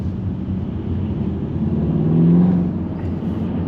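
Seat Leon 2.0 TDI diesel engine with a straight-pipe exhaust, a loud steady low drone that swells into a rev near the middle and then settles back, heard close and without talk.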